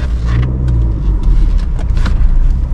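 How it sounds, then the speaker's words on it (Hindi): A car's engine rumbles and revs on a steep uphill clutch start, a close, loud, steady low drone with rising throttle and some cabin noise, no talk over it. "जैसे गाड़ी का इंजन वाइब्रेशन करने लगा, ये देखो वाइब्रेशन करने लगा, एक्सीलेटर ले लो"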